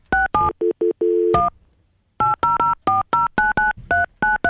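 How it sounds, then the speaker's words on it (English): Touch-tone telephone keypad dialing during a morning radio show, a quick run of crisp beeping tones, a pause, then another steady series of evenly spaced button tones. "Let me just try to."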